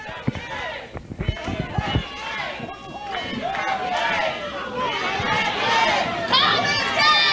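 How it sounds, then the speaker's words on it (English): Crowd at a wrestling arena during a three-way Texas Heavyweight Championship match, a dense roar of chatter and cheering that swells toward the end, with thuds and slams from the ring and a commentator talking over it. "And listen to this crowd."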